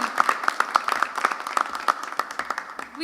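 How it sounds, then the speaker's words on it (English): A festival quiz round's audience claps together at the grand finale, a brisk, dense patter of many hands at moderate distance, steady for several seconds before thinning out at the end. "Can you give yourselves a very loud clap because you all were amazing."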